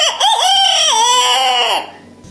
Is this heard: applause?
no